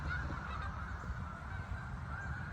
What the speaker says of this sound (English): Those are the geese. They're all about to take off.